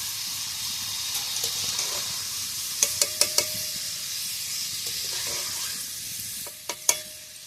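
Lentils frying in hot oil a little at a time until reddish, a soft continuous sizzle and hiss with a few sharp clinks of a utensil against the pan, close and without speech.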